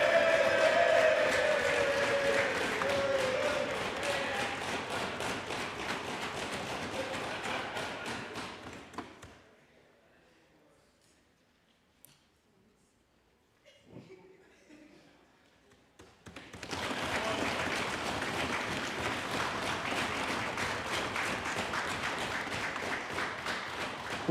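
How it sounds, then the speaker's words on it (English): Sustained applause fills an assembly chamber for the presiding officer during a special sitting, steady clapping that fades into near silence midway and then resumes at full strength. "a round of applause for Mr. Akel Andrews, presiding officer of the Assembly"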